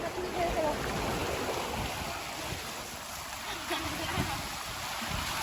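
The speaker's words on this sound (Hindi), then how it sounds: "नदी हो रही है पार" River water rushes during a river crossing in tiger country near Jim Corbett National Park, a broad, steady hiss of fast-flowing current with wind, and faint voices underneath.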